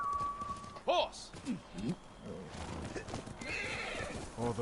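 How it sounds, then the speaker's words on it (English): A horse in the video game Ghost of Tsushima whinnies sharply, then hooves clip-clop along while further neighs rise and fall over a busy, noisy background with voices mixed in. "Horse!"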